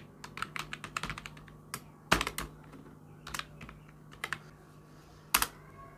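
Someone types Python code on a computer keyboard. Close, crisp keystrokes come in irregular bursts with short pauses between them, in a quiet room with no talking.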